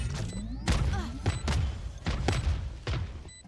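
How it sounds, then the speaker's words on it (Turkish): Missiles firing in the Valorant video game, a rapid series of heavy thumps and booming blasts spaced about a second apart, with whistling streaks between them and faint voices underneath. "Tüm füzeler ateşlendi."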